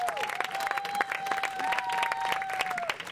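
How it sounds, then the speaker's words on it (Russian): An audience breaks into steady applause at an awards ceremony, a dense patter of many hands clapping, moderately close, while a sustained musical tone runs underneath. "Похлопаем ему!"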